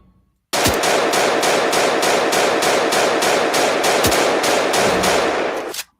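An AK rifle in a video game fires a long, sustained automatic burst of loud, rapid, evenly spaced shots lasting several seconds before stopping abruptly.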